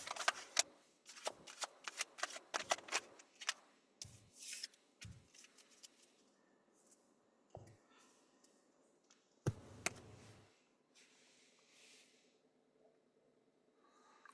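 Tarot cards are shuffled by hand for a one card pull, with rapid papery riffles and flicks in quick bursts, then sparser taps and soft card slides, close and quiet with no talk.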